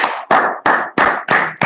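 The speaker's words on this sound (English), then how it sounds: "clap it up, man" A small group claps in a slow, even rhythm, five or six sharp loud hand claps spaced about a third of a second apart at a Minneapolis class gathering.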